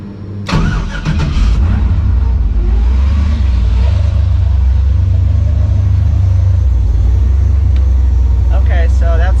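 A car engine cranks and catches during a 12-volt battery crank test, a brief starter whir followed by a loud, steady idle rumble close by, with a voice speaking near the end.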